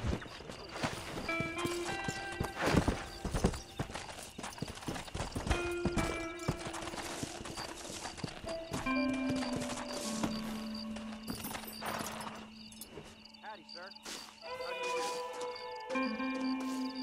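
Rhythmic clip-clop of horse hooves galloping in Red Dead Redemption over a bed of game music, with a horse whinnying briefly; loud and continuous throughout.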